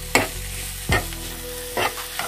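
Masala frying in a pan for dal fry, with soft sizzling under a few sharp scraping stirs spaced through the short stretch, close and moderately loud.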